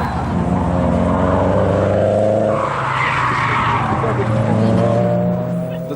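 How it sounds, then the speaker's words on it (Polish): A race car skids with sustained tire squeal on a racing track at Miedziana Góra, the screech loud and continuous with engine noise, while people talk over it. "Jesteśmy na torze wyścigowym w Miedzianej Górze"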